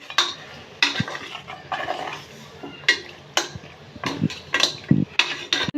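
Half a kilo of washed mutton is sautéed in a pot, with a spoon stirring it in repeated clanks and scrapes against the metal and a faint sizzle between strokes.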